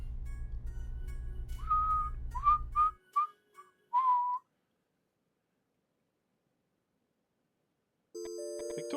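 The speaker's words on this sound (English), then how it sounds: "You really like to hear her whistle." A woman whistles a short tune of quick, bright notes over a low musical backing in the video game Mothmen 1966, then silence before a synthetic tone returns.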